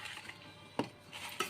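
Mango pickle being mixed with chili powder, soft scraping and a couple of sharp utensil knocks against the container, quiet and close.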